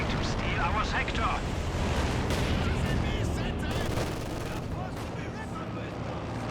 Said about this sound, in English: Engineers firing away.